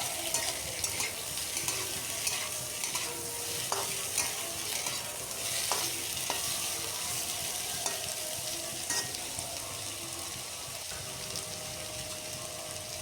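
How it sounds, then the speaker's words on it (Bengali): Cut potatoes fry together with onions in a pan, a steady soft sizzle under repeated spatula stirring strokes and faint scrapes across the pan, quiet and even with no speech. "আলুটা দিয়েও 1-2 বার এইভাবে নাড়াচাড়া করে নিচ্ছি।"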